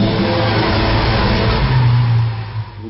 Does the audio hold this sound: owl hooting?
no